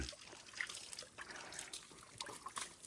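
Water draining and trickling out before a leak is patched, a faint, continuous thin trickle with small splashes and drips, heard fairly close with no talk.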